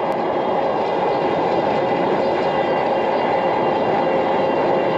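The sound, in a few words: strong wind noise on audio glasses while riding fast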